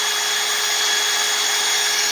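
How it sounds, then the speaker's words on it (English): An older Craftsman power drill runs on low speed boring holes in a toolbox assembly, a steady, high-pitched whine with a constant motor tone, close and uninterrupted. "I'm drilling these holes"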